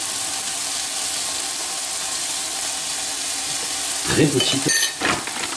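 Flour being stirred in a hot pan taken off the heat, a steady sizzle and hiss with scraping stir sounds growing louder near the end, under a brief spoken remark.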